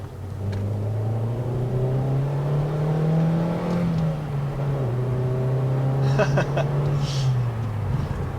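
A Ford Fiesta ST150 engine accelerates in a rising, sustained drone that climbs through the revs. It sounds loud and close, with a brief shift or easing near the middle before pulling again.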